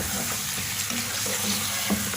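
Chicken fries in hot oil in a karahi over high heat, a constant close sizzle with occasional stirring scrapes and no voices.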